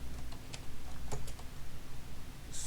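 Keys tapped on a computer keyboard while a command is entered to start a Node.js web server: a few quiet, scattered clicks over a low steady hum, no talking.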